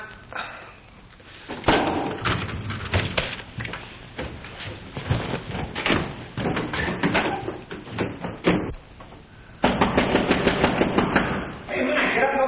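Knocking on a door in a 1940s crime drama scene, a run of sharp raps and thumps over several seconds, fairly close and loud, mixed with background movement and voices.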